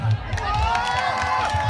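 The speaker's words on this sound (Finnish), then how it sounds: "Hei, kannustusta nyt yleisössä!" Spectators cheering during a tug-of-war heat at a rowing event, a continuous babble of shouting voices and calls close by, dense and unbroken through the short moment.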